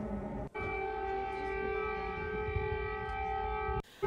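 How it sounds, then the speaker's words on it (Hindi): A steady, droning air raid alert siren in Kyiv holds one long tone for several seconds, fairly faint, set between two sharp cuts. "अब यहां पर जो अलर्ट सायरन बज रहे हैं"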